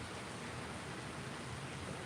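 Rain falls outdoors over a garden as a continuous, even, broadband hiss with no distinct drops or pauses, and no one speaks over it.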